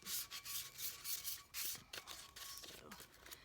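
Sandpaper rubs against a glitter tumbler cup in repeated short strokes, a close, soft scratchy swishing with brief pauses between passes.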